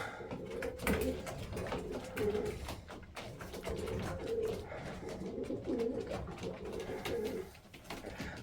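Domestic pigeons coo continuously in a loft housing around 110 birds, overlapping throaty calls rising and falling in a steady murmur close by, with no talk.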